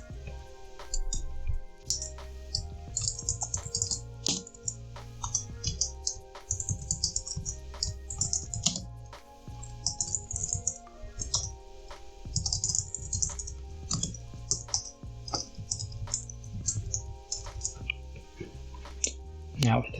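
SQL code is typed on a computer keyboard, with rapid close clatters of keys and clicks in uneven bursts throughout, and someone talking over the typing.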